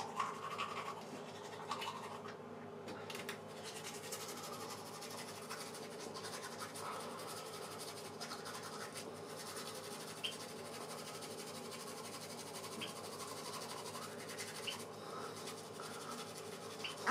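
Toothbrush bristles scrub at teeth in steady, faint, rapid scratching strokes, close by and continuing throughout without talk.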